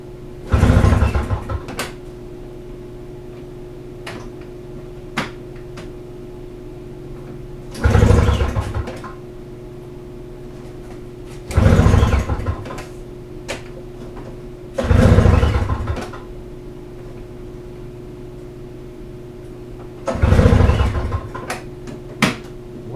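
Toro snowblower with a repaired pull starter, being pulled several times: five loud, brief rasping cranking bursts spaced a few seconds apart, close by, with a low steady hum between pulls and no sustained running.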